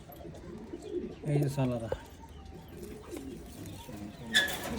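Pigeons coo softly in a loft in Oman, with several murmuring calls overlapping near and far while someone talks over them.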